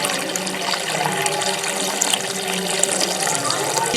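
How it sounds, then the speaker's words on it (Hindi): Water poured into the Saraswati well at Prayagraj flows and splashes down inside the shaft, a continuous rushing wash heard close and steady. "आवाज सुन सकते हैं अंदर पानी का, पूरा जल ये पाताल में जाता है"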